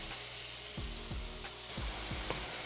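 Mushrooms sauté in butter and oil in a pan, a faint steady sizzle with a few soft knocks of a utensil against the pan, close but quiet, with no voices.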